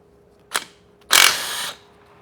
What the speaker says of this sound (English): So we'll start by taking this screw out. It's a 12mm socket.